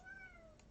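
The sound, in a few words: cat meowing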